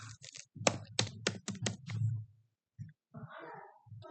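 Keys clatter on a computer keyboard in a quick run of crisp clicks, then a pause followed by a few scattered taps, close by and moderately quiet.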